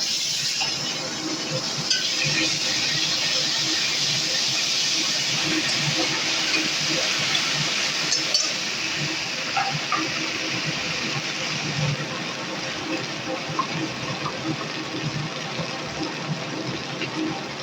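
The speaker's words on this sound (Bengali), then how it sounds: "এরপর এখানে দিয়ে দিব একটু আদা বাটা" Frying fish head masala of katla fish with ginger paste stirred in, a steady broad sizzle and crackle running throughout at fairly close range, with faint clinks from the pan underneath.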